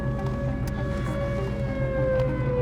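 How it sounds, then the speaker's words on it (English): A warning siren wails steadily across a storm chase scene, holding sustained tones over continuous rumbling wind and vehicle noise throughout. "Yeah, the siren's right there."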